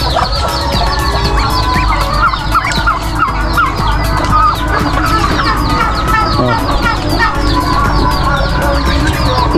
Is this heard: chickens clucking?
yes